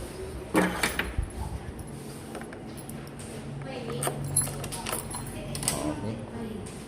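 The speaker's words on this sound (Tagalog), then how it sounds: "So kunin natin yung susi." Keys for a Suzuki Raider R 150 motorcycle jangle and clink in short bursts near the under-seat area, close by, with someone talking over them.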